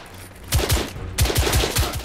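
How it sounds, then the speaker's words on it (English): Close, loud gunshots right beside the player in The Order: 1886, two rapid bursts of sharp shots separated by a short pause, each burst with several evenly spaced cracks. "Can you not shoot right beside my face?"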